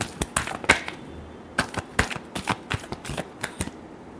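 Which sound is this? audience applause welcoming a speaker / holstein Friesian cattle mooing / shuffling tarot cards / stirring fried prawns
shuffling tarot cards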